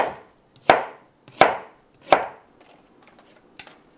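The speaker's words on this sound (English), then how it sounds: "We're gonna take some ginger and chop it into some big chunks." Ginger being chopped into big chunks on a cutting board while prepping dumpling soup: three loud, evenly spaced knife thuds up close, followed by quieter scraping and a last light tap.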